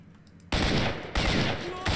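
Loud bursts of gunfire in the video game S.T.A.L.K.E.R.: Shadow of Chernobyl, two sustained volleys and the start of a third, cutting in abruptly after a quiet moment.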